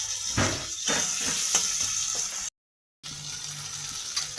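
Onion and tomato sizzle and fry in a pan with occasional stirring scrapes, a steady hiss close by, broken by a brief silence.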